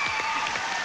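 Studio audience applause on a game show, a brief dense wash of clapping at moderate level with no voices.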